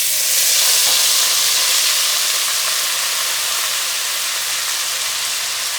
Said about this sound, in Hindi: सूजी को हमने अच्छे से भून लिया है और अब हम इसमें डालेंगे कद्दू